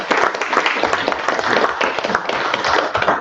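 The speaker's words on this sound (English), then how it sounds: "Let's give everybody a round of applause" A crowd applauds steadily at a school board meeting, dense clapping holding at an even level for the whole stretch.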